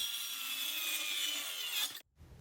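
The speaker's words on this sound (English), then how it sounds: "I am measuring 2 3-inch pieces that I will be using my circular saw to cut." A circular saw cuts through a short wooden piece, a steady, loud high-pitched whine that holds for about two seconds before stopping abruptly, leaving quiet handling noise.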